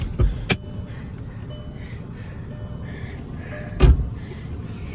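A car door opening, with two sharp mechanical clunks a few seconds apart over a low, steady cabin rumble. No one speaks.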